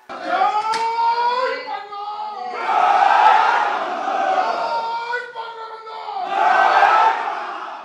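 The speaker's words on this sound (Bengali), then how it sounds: "স্লোগান আর করতালিতে তাকে শুভেচ্ছা জানান" Expatriates at a gathering chant slogans in loud rhythmic bursts, with a leader's call answered by the crowd and clapping mixed into the roar, rising and falling in waves.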